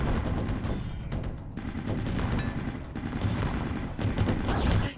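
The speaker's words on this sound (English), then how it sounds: "So watch the green rockets explode as they're coming towards me. It's because my gunfire is connecting with them." Rapid automatic gunfire in the EON Fighter video game, with bursts of dense rattling shots and short pauses as incoming missiles are shot down. The firing is fairly loud and steady across the moment, with no voice.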